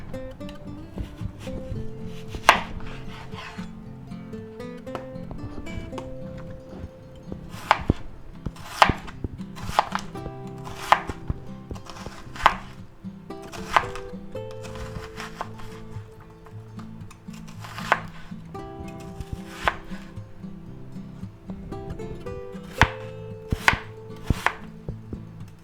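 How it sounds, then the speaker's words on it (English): A knife chopping onion on a cutting board, heard as steady, close rhythmic chops in quick bursts with short pauses, set against a faint continuous background hum. "Now we're going to go ahead and chop our onion up."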